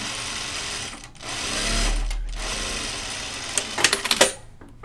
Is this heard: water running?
no